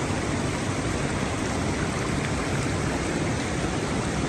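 Hot spring water flowing in a freezing high-altitude village near Siachen, Pakistan, giving a steady, close, full-band rush with no pauses and no voices.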